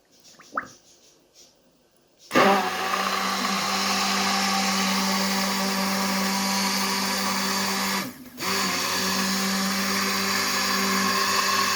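An electric blender whirs steadily as it purees a boiled strawberry dessert, starting abruptly after a few faint clinks and running loud and continuous, with a brief dip near the end before resuming.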